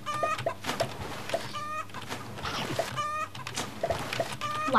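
Chickens cluck repeatedly in the Roblox game Egg Farm Simulator, short synthetic clucks and calls recurring over a steady, busy game backdrop with no talking.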